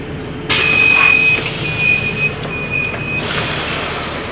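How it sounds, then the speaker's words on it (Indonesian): A train rumbles through the Soekarno-Hatta airport train station, with a long high-pitched wheel squeal running over the steady noise of the passing cars. "di stasiun kereta bandara"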